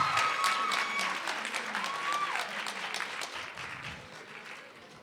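An audience applauds after a speech at a youth session: dense, sustained clapping from a crowd, strong at first and slowly fading, with a few brief voices over it.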